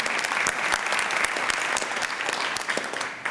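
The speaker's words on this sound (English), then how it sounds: "give him a round of applause for Imad, please." Audience at a college jazz band concert applauds steadily, a dense burst of clapping at moderate distance that lasts a few seconds without other sounds.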